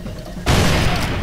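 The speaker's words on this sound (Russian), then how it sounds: "Я устрою вам гранатный ад, сосунки." Grenade explosion in the shooter game Far Cry 3, a sudden loud broadband blast that sets in partway through and rumbles on to the end, following quieter ambient game noise.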